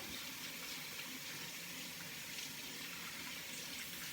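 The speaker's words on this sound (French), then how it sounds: "Après ça, on rince, évidemment." Hands being rinsed under a running tap, a steady, even rush of water close by that continues without pause or talk.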